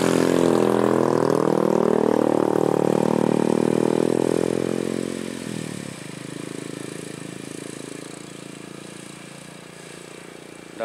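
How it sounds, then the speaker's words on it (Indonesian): Loud engines of a Honda Mobilio car and a motorcycle labor and rev close by climbing a steep winding mountain road, then drop to a lower, steadier idle-like rumble. "Mobilio dan sepeda motor."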